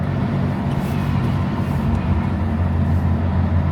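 A BMW E30 race car engine drones steadily from inside the cabin on its first drive, a loud low rumble held evenly with no talk over it.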